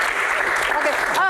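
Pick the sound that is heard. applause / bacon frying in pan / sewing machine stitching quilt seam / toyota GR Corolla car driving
applause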